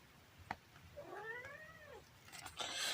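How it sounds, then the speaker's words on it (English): A cat lets out a single drawn-out, wavering meow, faint and somewhat distant, with a couple of small clicks and a burst of rustling noise at the end. "Everyone want to see Giz the cat"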